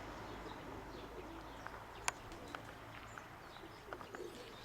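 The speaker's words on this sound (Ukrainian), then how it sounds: "показую вам голуба" Pigeon cooing outdoors, soft and low, with a few faint calls scattered over a steady murmur of background noise.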